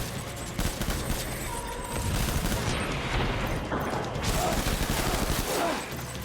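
Enemy gunfire in the video game Death Stranding: sustained rattling bursts of shots with crashes and mechanical clatter, fairly quiet overall, with a voice speaking over parts of it.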